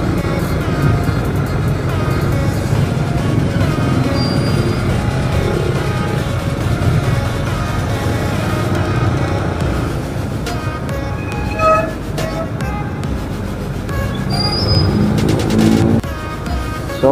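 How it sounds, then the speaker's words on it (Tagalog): Road traffic heard while riding a Yamaha 150cc motorcycle between Camarines Sur and Legazpi: a continuous low rumble of engines and wind, with passing vehicles and a few faint horn-like tones, and no talk. "Grabe yung traffic."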